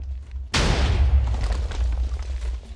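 A single loud explosion bursts in a Minecraft adventure map after a short quiet moment, a sharp boom followed by a long rumbling, crackling decay.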